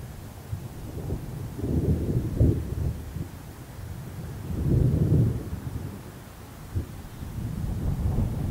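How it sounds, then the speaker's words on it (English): Distant thunder rumbles in low, rolling swells on the coast, mixed with gusting wind buffeting the microphone, with no one talking. "just heard 2 cracks of thunder"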